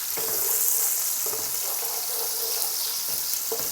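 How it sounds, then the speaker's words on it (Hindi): Chopped onions frying in hot oil in a pan for chicken pulao, a steady close sizzle with broad hiss and a few soft stirring scrapes, with no voice. "और इसमें मैं सबसे पहले प्याज गुलाबी करूँगी।"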